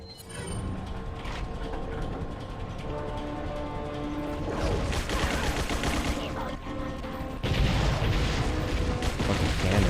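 Heavy cannon and gunfire from the Resident Evil 4 video game, a loud continuous barrage of booming shots and mechanical clatter that intensifies toward the end.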